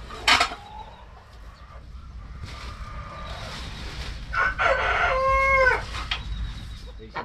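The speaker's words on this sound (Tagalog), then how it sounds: "maingay po yung mga manok at patong mga kabayan" Backyard chickens and ducks, a rooster crowing clearly nearby and other birds clucking and calling in several bursts over a quiet outdoor background.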